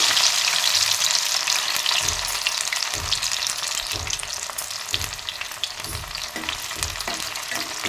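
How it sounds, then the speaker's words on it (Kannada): Cauliflower pieces for gobi fry deep-frying in oil over a low flame, with a continuous bubbling sizzle and soft low thumps recurring about once a second, close by. "ಅದೇ ಡೀಪ್ ಫ್ರೈ ಮಾಡಬೇಕು ಸಣ್ಣ ಉರಿಯಲ್ಲೇ ಮಾಡಬೇಕು"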